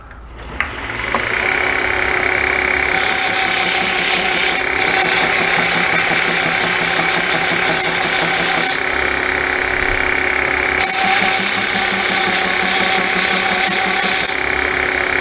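A slack belt sander runs continuously at high, steady volume, sanding a Kirinite knife handle on a 220 grit belt, with a constant motor whine and a belt rumble that shifts in tone as the piece is pressed on and eased off.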